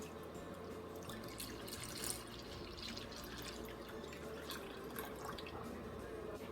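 Whole milk pours into a pot of melted white chocolate chips, a faint, steady liquid trickle with light splashing and dripping that runs without pause and without talk.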